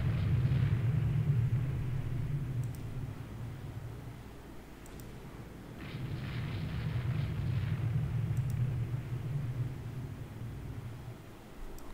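Naval gunfire and explosions in Rule the Waves 2 form a low, continuous rumbling barrage that swells, dips around the middle and swells again, with faint sharp cracks on top.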